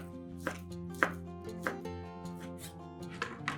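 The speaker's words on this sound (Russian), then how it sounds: "150 грамм варено-копченой колбасы нарезаем сначала кружочками, а затем кружочки режем небольшими кубиками." A knife chops smoked sausage into small cubes on a cutting board, sharp irregular taps close up over a faint background hum.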